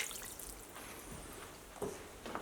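A can of water poured into a slow cooker holding cream of mushroom and cream of chicken soup, giving a faint, brief splashing trickle against quiet room noise.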